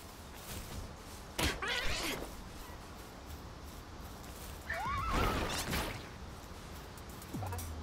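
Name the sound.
horse neighing in Palworld video game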